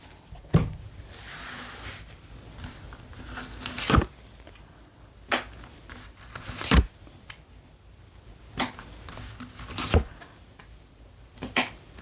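Tarot cards being shuffled and drawn by hand, a series of soft, scattered taps and slides spaced irregularly, fairly close and quiet, with no voice over them.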